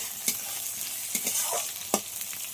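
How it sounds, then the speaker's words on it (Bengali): Chopped onions, two large ones, fry in a pan with a steady close sizzle and a few sharp scrapes of a spoon stirring them, with no talk. "পেঁয়াজটা একটু ভালো করে ভেজে নেব।"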